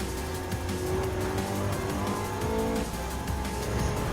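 A Ferrari F430 engine revving in Gran Turismo 7 on a race circuit, a steady high-pitched racing drone with shifting tones and faint tire noise, continuous and fairly quiet throughout.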